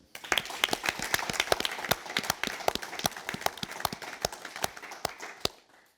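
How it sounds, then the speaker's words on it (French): Applause from an awards-ceremony audience at a French Judo Federation prize event, heard as loud, rapid, irregular claps close by that fill the clip and then die away quickly at the end. "Donc je pense qu'on peut se permettre de faire un applaudissement pour ce grand homme."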